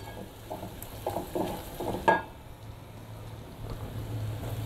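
Colorau hits rendered bacon and calabresa sausage fat for baião de dois, giving a faint close sizzle and a few stirring scrapes, with one sharp clink partway through.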